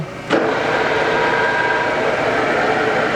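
A Trak 3-axis CNC bed mill with hand wheels, model DPMS3 from 2004, starts its spindle head and runs at steady speed with a loud, even whirring drone and mechanical hum close by.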